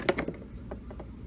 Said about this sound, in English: this just slides in, holds the battery